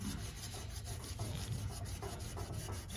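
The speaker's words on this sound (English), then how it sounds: "I'm going to keep rubbing on it here for a little while" Steady scrubbing and rubbing on a flaked chrome part from a 1940 Ford Tudor, a continuous low abrasive rasp with faint rhythmic strokes throughout, close up, with no talking.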